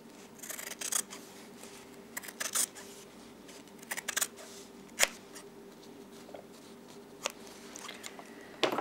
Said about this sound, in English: I'm now going to trim. And I'm going to trim nice and close to the zigzag stitch.